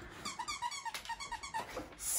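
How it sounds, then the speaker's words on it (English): A plush tough dog toy shaped like a duck squeaks in a rapid run of about a dozen short, even squeaks, fairly close and alone, with a rougher squeeze near the end. "Has he got squeakers?"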